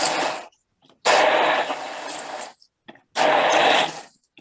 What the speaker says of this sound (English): And I'm going to use this stick blender.